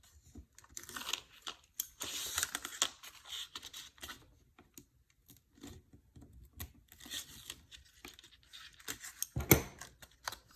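Adhesive backing being peeled off a paper card layer during card making: close, quiet crinkling and tearing rustles in irregular bursts, with a sharper crackle near the end.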